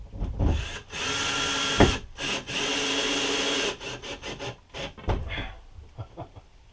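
A power drill drives screws into wood in close, loud bursts: several sustained whirs of a second or two each, broken by short pauses and handling knocks.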